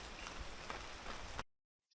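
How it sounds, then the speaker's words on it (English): Steady rain hisses across the surface for about a second and a half during wet weather in northern Nicaragua, then cuts off abruptly into silence. "It hasn't stopped raining since yesterday evening."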